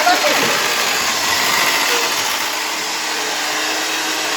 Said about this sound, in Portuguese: Estamos batendo aqui, gente, a manteiga.